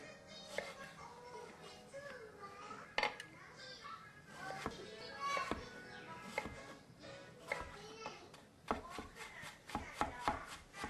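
A knife chops potatoes for hash browns on a cutting board in quick, sharp knocks that come in bursts, close and distinct, with a soft voice in the background between cuts.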